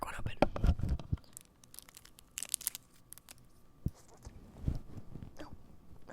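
Crinkly foil or plastic wrapper being torn open and unwrapped from a Ghirardelli dark chocolate sea salt almond candy, close and quiet, with irregular crackles and rustles while a person talks intermittently.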